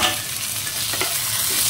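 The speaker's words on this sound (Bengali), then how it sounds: "টমেটোটাও হালকা ফ্রাই করবো।" Onion and tomatoes frying in a pan, an even close sizzle with a few soft stirring knocks, no speech over it.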